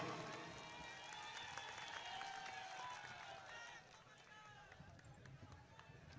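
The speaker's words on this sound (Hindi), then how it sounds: "जोरदार तालियों से कमलनाथ जी का आप स्वागत कीजिए" Rally crowd applauding to welcome Kamal Nath at an Adivasi gathering in Madhya Pradesh, a dense continuous wash of clapping and crowd noise sustained across the whole stretch, easing slightly near the end.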